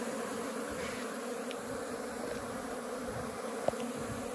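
A dense, steady buzz of many Apis honey bees drawn from a termite mound in the middle of a pasture while smoke is applied, with one faint click standing out against the constant hum.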